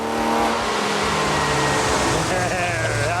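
A loud vintage engine roars at steady high revs during a dynamometer pull, filling the whole stretch with dense broadband noise and a slowly rising harmonic whine toward the end.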